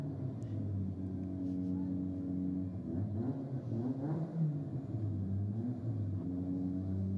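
Engines idling and revving at Sydney Dragway as a BMW lines up against a 2005 Honda VTEC, a steady low rumble at mid distance with rising and falling revs around the middle, over constant background noise.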